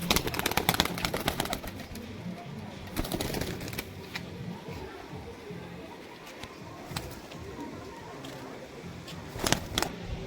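An adult female Panjabi pigeon released and moving about, with bursts of wing flutter at the start and again near the end over a quiet, rustling background.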